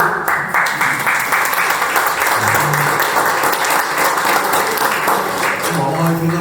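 Applause rises in a hall as a newspaper director arrives at a cultural gathering at the Uneac's Villena room, steady crowd clapping filling the full stretch with some voices mixed underneath.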